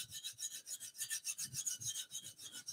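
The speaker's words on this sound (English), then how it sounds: "we can take our diamond file and just give a couple of little sweeps" A diamond file is swept repeatedly along the edge of a woodturning skew chisel, producing faint, even rasping strokes in a quick steady rhythm with no talking.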